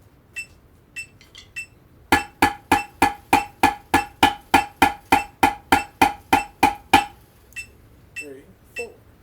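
A practice drum pad is struck in a steady run of about twenty evenly spaced sharp taps at 100 beats per minute, loud and close, with a few scattered warm-up hits before and after.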